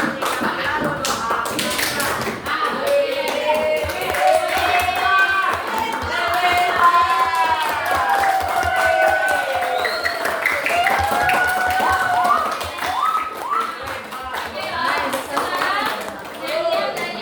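Children at a school Islamic short course clap hands together in a steady rhythm alongside a sung chant, with voices singing over the claps.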